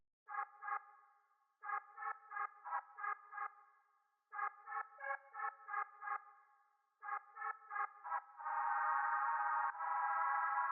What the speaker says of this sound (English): Then for the next thing I had this pad which is called Commercy.